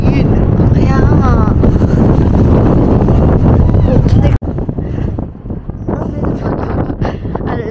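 Loud, gusty wind batters a microphone outdoors in Odaiba, Tokyo, as a steady roaring rumble, then drops abruptly to a lighter, fluttering blow. People talk over it throughout.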